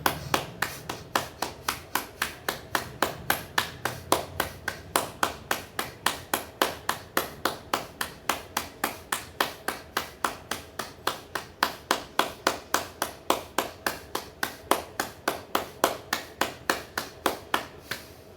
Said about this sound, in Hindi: तालियों के साथ भस्त्रिका कीजिए।